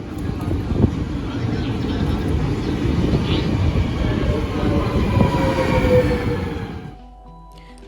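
Dutch passenger train running along the track, a steady loud rumble of wheels and carriage noise with faint high squeals, ending abruptly in quieter hum.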